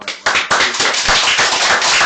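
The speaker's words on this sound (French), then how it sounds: "On peut applaudir" Applause from a small group, a quick run of sharp, close hand claps that starts abruptly and keeps going densely for a couple of seconds.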